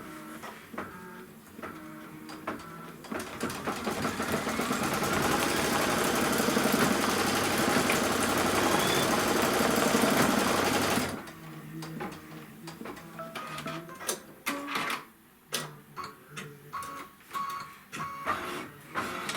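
An embroidery sewing machine stitches an applique tack-down, a steady loud whirring buzz of rapid needle strokes that runs for several seconds before stopping, followed by quieter intermittent clicks and handling sounds.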